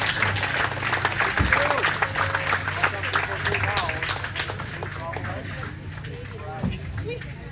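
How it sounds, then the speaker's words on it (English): An audience at an outdoor expo day applauds, with scattered clapping, cheers and crowd chatter mixed with voices talking over it, moderately loud and steady throughout. "Please give them a round of applause."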